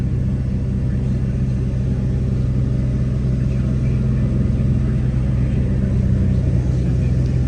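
Diesel engine of a 1984 Mercedes 300D held at a raised, surging idle, a loud steady low rumble close by that keeps pushing to climb, with no speech over it.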